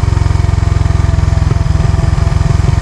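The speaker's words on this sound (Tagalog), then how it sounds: "Yan na yung tinatawag na engine brake" Manual motorcycle engine braking on a steep downhill road, a loud, rhythmic engine drone with steady pulsing throughout and a slight shift in tone halfway through.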